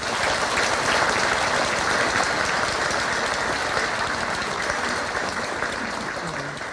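A church congregation applauds the priests during a Mass blessing stained-glass windows, sustained dense clapping filling a reverberant hall and slowly fading toward the end, with faint voices beneath.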